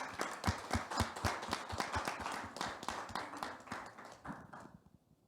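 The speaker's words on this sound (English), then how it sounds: "I think we should give her a big round of applause" Audience applause at a conference session on labour rights in public services: brisk, close clapping from a small group, loud at first and then thinning out before it stops abruptly near the end.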